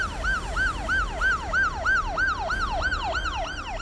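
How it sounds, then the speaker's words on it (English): A siren wails in rapid, repeating rising-and-falling sweeps, loud and close, with a low rumble from a large jeep underneath. "Sirens blaring"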